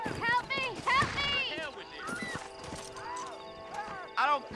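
Horse in the video game Red Dead Redemption, with rhythmic hoof clip-clops and a couple of whinnies and snorts, while characters talk over the scene.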